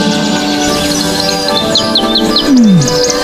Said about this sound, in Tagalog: Ang hangin ay punong-puno ng masiglang awit ng mga ibon.